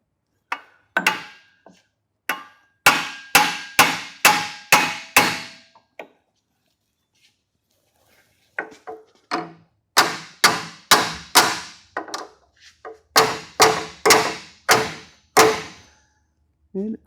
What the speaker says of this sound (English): like just hitting it with a hammer